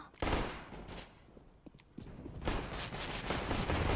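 Automatic gunfire in Counter-Strike: Global Offensive comes in rapid bursts, a short volley at the start, then a brief lull, then sustained fire that grows louder.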